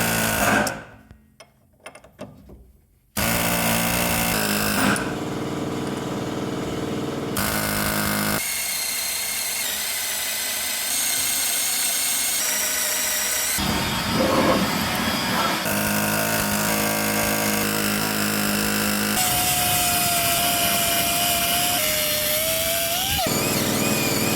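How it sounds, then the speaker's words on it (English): Loud, continuous power-drill whine with shifting pitch as a 3/8 bit drills through rivet heads on a 1994 Chevy K1500's front suspension, broken by pauses and changes in load, close up and dominating. "Drill down into them to get my air hammer a little deeper in there."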